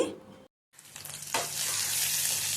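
Onions and tempering spices fry in a pan over a medium flame for a raw mango pulusu. A brief pause and a stirring scrape give way to a loud, steady sizzle.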